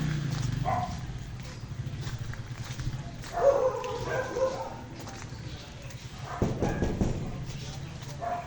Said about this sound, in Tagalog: Baka may aso.